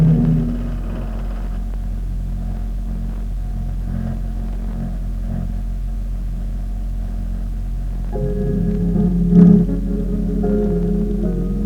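A powerboat passing on a river during a race: a steady, low, droning engine rumble that swells slightly toward the end, heard at a moderate distance with no talking.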